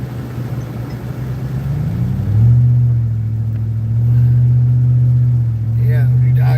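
A truck engine idles close by with a low, steady rumble, rising slightly midway and holding at an even pitch, with faint background sound around it.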